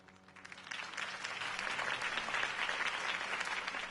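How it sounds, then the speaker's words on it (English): A large crowd applauds steadily in the Telltale Batman video game, the clapping swelling over the first second into a dense, sustained roar of hands. "If only Mr. Wayne, my campaign's largest backer, could have heard that applause"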